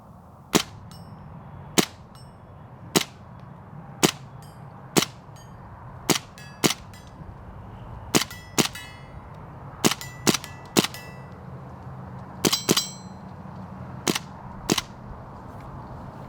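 A CO2 air gun fires shot after shot at a distant steel target plate. Each sharp crack is followed by a bright metallic ding, about a dozen evenly spaced hits over a steady background hum.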